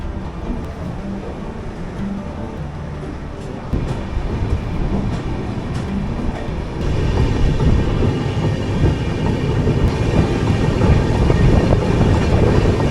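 Netravathi Express pulling out of Ernakulam Junction, heard from on board as a low rumble that builds and grows louder, with rhythmic clicks of wheels on rail joints, no voices.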